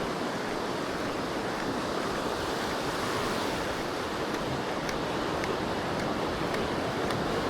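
Ocean waves at Palolem Beach in South Goa roll in as a steady, broad wash of surf with some wind, continuous and fairly close, with no talk.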